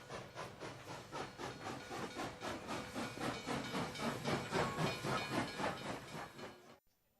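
A steam train pulls in with loud, steady hissing and rhythmic chuffing bursts, a faint whistle-like tone running through it, before the sound cuts off abruptly near the end.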